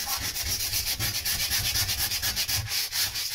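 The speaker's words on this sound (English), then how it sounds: "There's more sanding than you think," Rhythmic back-and-forth rasping of sandpaper on wood, steady and close, repeating quickly without pause.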